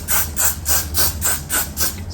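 A hair spray bottle's pump mists repeatedly during a wig install, about eight quick rhythmic spritzes in a steady pattern, close and fairly loud, with no talking.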